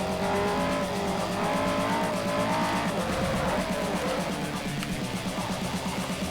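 Turbocharged race car in Forza Motorsport 4 roaring continuously at high revs, with a strong buzzing engine note, shifting pitch and tire squeal, loud and close throughout.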